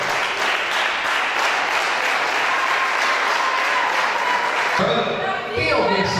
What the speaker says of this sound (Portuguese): Pode aplaudir o Senhor bem forte.